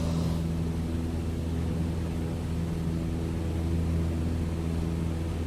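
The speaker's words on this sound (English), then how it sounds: "flying an airplane, bringing it in over here." A light airplane in a flight simulator game, flown with a Logitech flight yoke and rudder pedals, gives a steady, continuous engine drone with a low hum that holds evenly throughout, with no talking.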